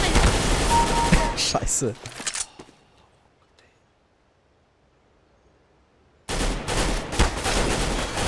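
Gunfire in Counter-Strike: Global Offensive: loud rapid bursts of shots, then several seconds of near silence before another burst erupts. A man swears briefly.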